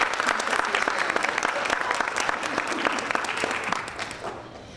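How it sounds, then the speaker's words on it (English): An audience claps for a participant at an annual student competition event, dense continuous applause with sharp individual claps, steady and fairly close, tapering off at the end. "let's give Regina a round of applause"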